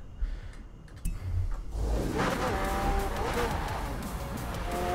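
A car drives hard in Forza Horizon 4, its engine revving loudly as tires squeal and skid through a corner, with a few faint clicks at the start.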